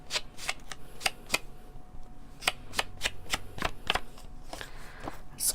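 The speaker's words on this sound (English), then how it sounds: "I'm going to sponge the edges of it here." Damp round craft sponge wedge dabbed repeatedly against the edges of a paper card, a series of crisp brushing taps at an irregular rhythm, close and fairly quiet, with no talking.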